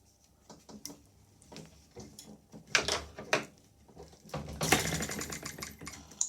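A Sterling Kit M12b spark-ignition petrol engine gets a pull-start attempt. A few short rattling clicks lead into a longer whirring, rattling burst near the end, and the engine never catches or runs.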